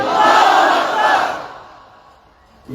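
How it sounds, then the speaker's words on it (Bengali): A large crowd at an outdoor religious gathering roars a loud chant of Allahu Akbar in one sustained swell of many voices, fading away before a brief sound at the end. "উঁচু আওয়াজে তাকবীর দিতে হবে। আল্লাহু আকবার, নারায়ে তাকবীর।"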